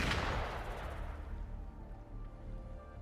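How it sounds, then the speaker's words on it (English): Gunfire in the video game Wuthering Waves: a single heavy, booming shot or blast opens loudly, then rumbles and fades into a long low echo. "Gunfire! We've got intruders."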